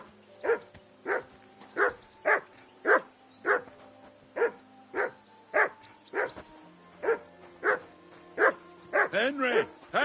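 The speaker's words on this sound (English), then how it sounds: "Call off that mutt of yours!" A dog in the medieval video game Kingdom Come Deliverance 2 barks at Henry in a steady string of loud, evenly spaced barks, ending in a flurry of quicker yelps and whines, with faint speech underneath.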